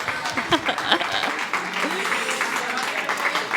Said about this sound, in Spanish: Muy bien, un aplauso, lo habéis hecho muy bien.